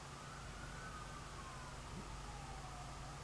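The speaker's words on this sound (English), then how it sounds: "those are sirens" An emergency vehicle siren wails outside, its tone gliding slowly up and down at a moderate distance across a steady wash of traffic noise and rumble.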